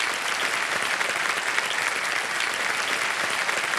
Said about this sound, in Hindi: ताली बज जाए इनके लिए